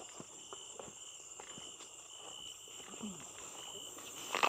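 Night in Isan rice fields: faint insect chirping over soft background noise, with a few scattered light knocks and ticks and a brief louder rustle at the end. No distinct frog calls stand out.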